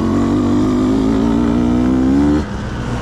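A Beta 200RR two-stroke dirt bike engine revs loud and close while riding in the desert, its pitch climbing steadily before cutting back to a lower idle-like drone near the end.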